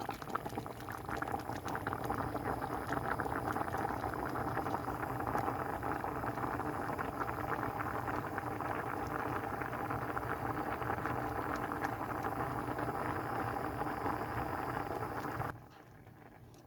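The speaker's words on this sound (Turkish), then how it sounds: "Şimdi sütüm de kaynamış zaten." Milk boiling in a pot for Turkish rice pudding, a steady, close rolling bubble that holds evenly, then drops away just before the end.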